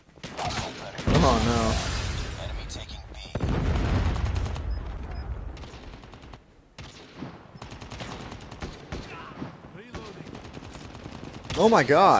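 Rapid bursts of gunfire from an M21 in Call of Duty Mobile, with dense clusters of shots and booms, interrupted by gaps; a player talks and exclaims over the action.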